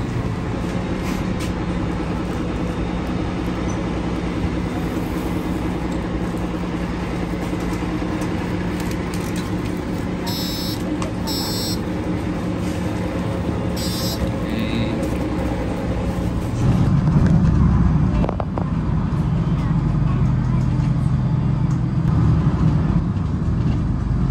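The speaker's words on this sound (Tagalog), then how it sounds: "Sakay kami ng bus." Steady low rumble of a city bus in motion, heard from inside as passengers ride toward Northwest Central, with engine drone and road noise continuing throughout and a heavier surge near the end.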